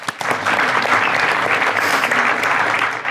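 An audience at a business leadership talk bursts into clapping, dense and sustained for a few seconds at close range, with no voice over it.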